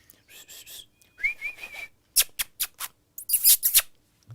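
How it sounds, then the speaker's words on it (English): Chirping and whistling birds heard from inside an unsoundproofed garage, bursts of bright warbling calls and sharp high chirps in quick phrases, fairly clear and close, with no talk over them. "you can hear the birds outside the garage"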